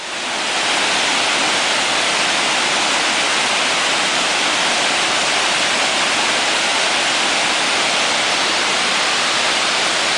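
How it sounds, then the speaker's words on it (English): Agate Falls on the Ontonagon River pours in a dense, loud, continuous hiss and rush of falling water, unbroken and steady throughout with no voices. "I decided to stop and have a look at Agate Falls on the Ontonagon River"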